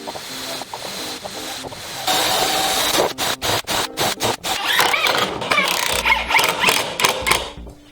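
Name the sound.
screws being driven into dust collector impeller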